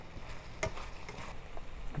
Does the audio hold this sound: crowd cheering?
no